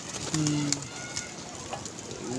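A pigeon at a pigeon club gives low, soft coos in two short bursts, faint and set against light outdoor background noise.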